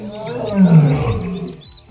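A lion roars in a cartoon fable for children, a single deep, rumbling roar that swells to a peak and then fades over about two seconds, loud and close.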